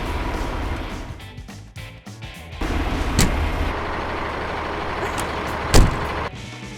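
A vocational truck cab rattles on a structural shake test rig, with a loud, continuous low rumble and shuddering, sharp metallic knocks and clicks cracking through now and then.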